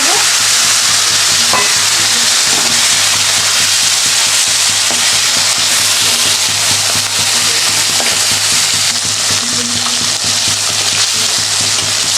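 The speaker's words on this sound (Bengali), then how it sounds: "মাছটা ভাজা হয়ে গেছে এবার নামিয়ে নিচ্ছি" Fish fry in a pan of oil with a loud, continuous, close-up sizzle that holds steady throughout.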